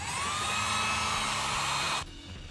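A heat gun blowing hot air onto EVA foam pieces for a cosplay helmet gives a steady, loud, close airy roar with a faint whine, then cuts off abruptly near the end, leaving a quieter hum.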